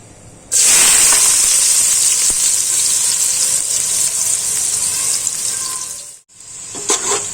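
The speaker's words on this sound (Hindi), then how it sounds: "अब हम प्याज डालेंगे" Onions dropped into hot oil with green cardamom and a small piece of cinnamon, giving a sudden loud, steady sizzle and hiss that holds for several seconds, dips briefly, then resumes, with no talk.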